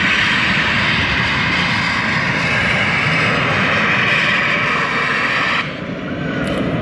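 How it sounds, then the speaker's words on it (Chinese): A Shenzhen Airlines Airbus jet arriving from Harbin roars loudly and steadily overhead as it comes in to land, a dense broadband engine rush that holds strong before dropping slightly near the end. "看一下马上即将落地进港的飞机，这是一架深圳航空"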